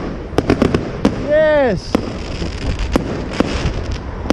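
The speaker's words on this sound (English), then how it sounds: "Hey, fireworks!" Fireworks explode outdoors in a quick string of sharp pops and crackles, with one whistling rocket rising and falling in pitch in the middle, loud and nearby while a person briefly exclaims.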